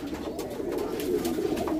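A red-eyed golden Kamgar pigeon, a male, coos in a low, steady, continuous murmur that stays close and fairly soft, with no talking over it.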